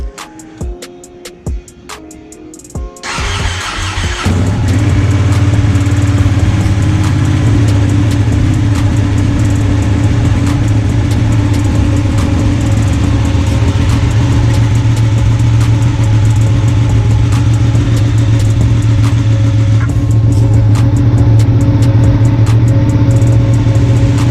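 A Ducati Panigale motorcycle engine starts after a few mechanical clicks and settles into a loud, steady, close idle with a deep throbbing hum, left running to circulate fresh oil.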